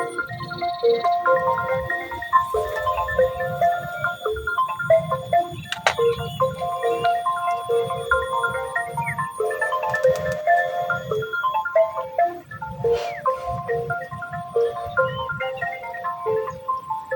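A mobile phone rings unanswered beside a reservoir fishing spot, its electronic melody repeating in a bright, steady looping pattern close by for the whole stretch.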